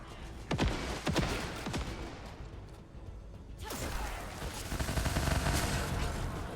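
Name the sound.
gunfire in video game The First Descendant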